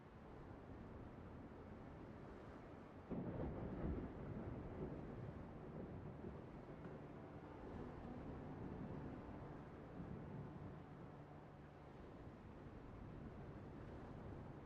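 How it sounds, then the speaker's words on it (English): A thunderstorm at sea in the pirate game Windrose rumbles as a steady, loud wash of wind and rain, with a heavier burst like a thunder crack about three seconds in, then continuing broad noise without talk. "It's gonna storm forever."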